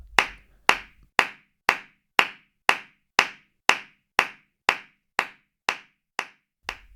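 Flamenco palmas hand claps strike in a steady compás, about fourteen sharp, crisp claps spaced evenly and close by, each ringing briefly before the next, with no voices.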